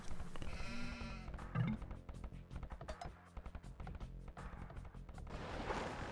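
A sheep bleats clearly amid a busy mix of Age of Empires game sounds and rapid clicking footsteps, fairly close and moderately loud.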